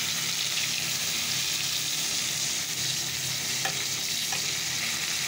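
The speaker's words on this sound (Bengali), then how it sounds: "তো চলো আগে পটল ভাজাটা করে নিই, তারপরে মাছগুলো ভাজবো।" Sliced pointed gourd (potol) frying in hot oil in a home kitchen, a steady dense sizzle that holds evenly throughout, close and loud, with a couple of faint utensil touches.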